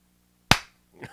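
One sharp, close hand clap rings out alone after a short silence, decaying quickly, with faint murmuring sounds just afterward.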